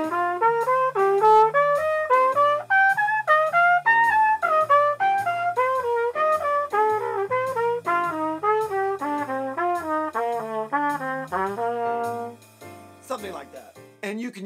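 A trumpet plays a major scale pattern in fourths for jazz improvisation, clean, distinct notes in a steady running line that skips up and steps back, close and bright, with bass notes below and a short noisy break at the end.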